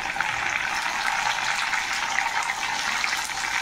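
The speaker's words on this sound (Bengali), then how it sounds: "আলুগুলো ভাজা হয়ে গেছে, এখন কেটে রাখা টমেটোগুলো দিয়ে দেবো" Chopped tomatoes go into a pan of frying potatoes while making bhindi shorshe posto, heard as a steady, close sizzle and hiss of oil that holds evenly throughout, with no talking.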